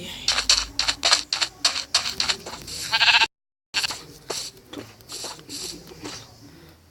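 Sheep bleat repeatedly in Minecraft, a run of short, bright, stuttering bleats in quick succession, broken by a brief silence and then more bleats, near and fairly loud against a busy game background.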